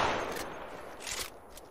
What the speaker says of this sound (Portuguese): Atirou dali da janelinha.